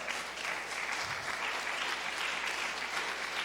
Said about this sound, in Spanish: Si va a aplaudir, aplauda bien